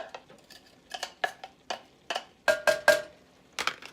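Chopped onions going into a hot pan for a cowboy grub skillet dish, stirred with a wooden spoon: a quick run of knocks, clatters and scrapes in uneven bursts, fairly close, with no talking.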